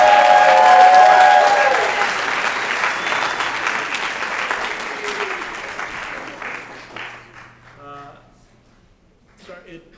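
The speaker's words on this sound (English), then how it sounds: "Let's give another round of applause for Martin Lee." Audience applause at a school declamation contest starts loud and full, then thins out gradually into scattered claps and quiet before a brief final patter.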